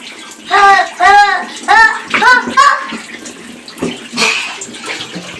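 Running water pours while a child is bathed, splashing steadily under an adult's and a voices speaking in short bursts, close and fairly loud.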